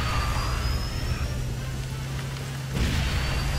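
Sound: rain on a rain map in the video game KartRider

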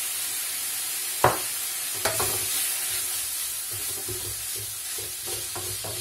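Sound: stirring and frying kofta with spices in a pan

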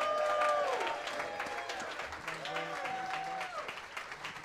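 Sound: audience applause at jazz club

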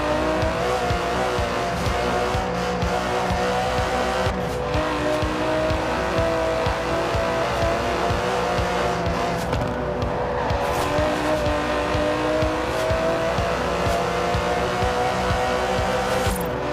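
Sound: Aston Martin DB11 twin-turbo V12 engine revving in Forza Horizon 4 video game

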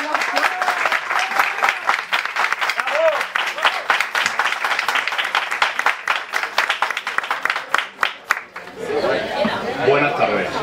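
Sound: audience applause at a political event

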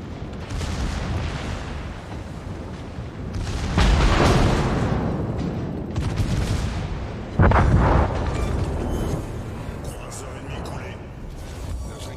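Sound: torpedo hits exploding on warship in World of Warships video game

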